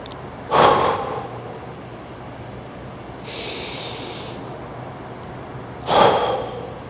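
Deep breathing during a slow shoulder-raising exercise: two loud, close breaths several seconds apart, each a sharp rush of air that trails off, with a softer airy breath between them.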